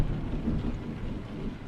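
Steady patter of rain with a low rumbling of thunder underneath in the video game Euro Truck Simulator 2, continuous and fairly quiet.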